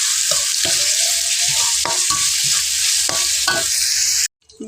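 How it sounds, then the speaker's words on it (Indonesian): Semur seasoning and fried tofu stir-fried in a pan, a loud close sizzle broken by repeated spatula scrapes and knocks against the pan, ending abruptly, with no voices. "Tak gongso dulu bumbu semurnya"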